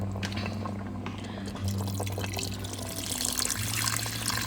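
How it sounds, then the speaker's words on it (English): Water pours into a pot of mutton curry with a steady, close splashing rush and small trickles. A low hum sits underneath and no one speaks. "after pouring the water"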